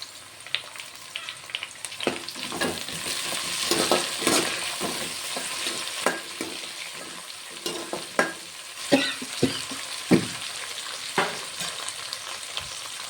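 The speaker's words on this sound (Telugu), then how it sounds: "ఇప్పుడు ఇందులో కొంచెం పుదీనా వేసుకుంటున్నాను" Whole mint leaves go into a hot frying pan and sizzle steadily while a utensil stirs and scrapes, with repeated close clicks against the pan.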